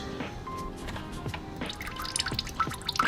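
Engine coolant dripping and trickling out of the opened radiator drain on a Subaru WRX VB during a radiator upgrade, a steady liquid flow with scattered close drips growing louder toward the end, no talking.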